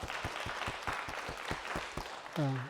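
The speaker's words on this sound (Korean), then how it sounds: "하나님께 영광의 박수 올리겠습니다." A church congregation at a Korean Sunday worship service in Berlin claps in a regular rhythm, each clap distinct and fairly faint, before a voice begins speaking near the end.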